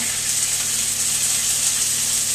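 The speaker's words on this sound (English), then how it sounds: "Stick your piece of meat on there, and we're looking for a really nice sizzle." A piece of chuck steak sizzles in a hot pan, a steady, loud, even hiss that fills the whole stretch without pause or talk.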